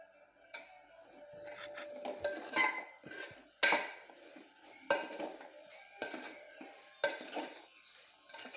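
A pot of vegetable biryani ingredients with coriander leaves is stirred and fried, with a faint sizzle under sharp, irregular clinks of a metal spoon scraping the pot, quiet and close, no talking.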